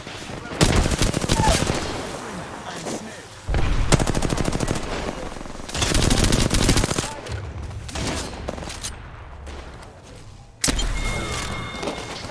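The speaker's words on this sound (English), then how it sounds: "Down, shoot down on him." Automatic weapon fire in the video game Apex Legends rattles in several long, loud bursts of rapid shots, separated by short pauses and quieter stretches, with a final burst near the end.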